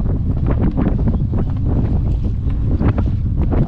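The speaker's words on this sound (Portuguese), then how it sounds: "Agora o vento aumentou," Strong wind buffeting the microphone while sailing a kayak on the Paraguay River in the Pantanal, a loud, constant low roar with gusty rumble and water noise, no voices.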